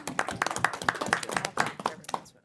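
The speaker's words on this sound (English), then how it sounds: "you might want to stop clapping" Audience at a meeting clapping: a short run of about ten distinct claps in a fairly steady rhythm, moderately close and clear, thinning out and stopping after two seconds.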